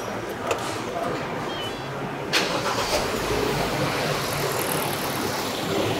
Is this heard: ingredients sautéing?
no